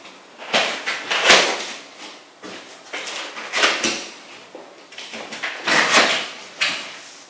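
Stiff double-walled corrugated cardboard from a road bike's shipping box rustles, scrapes and thumps in a series of close, uneven bursts as the box is pulled open.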